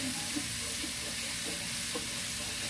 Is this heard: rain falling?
no